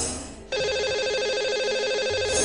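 A telephone ringtone sounding over a phone line as a radio phone-in show dials a caller, a steady repeating electronic ring starting after a short pause and continuing without talk.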